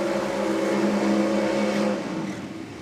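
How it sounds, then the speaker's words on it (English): A 1968 Camaro drag car does a burnout at a nitro drag racing event, a loud sustained engine roar with steady droning tones that fades slightly toward the end. "That is a burnout."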